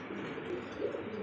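Damascene pigeons kept in a cage coo steadily through the whole stretch, a soft, continuous low murmur close by with no one talking.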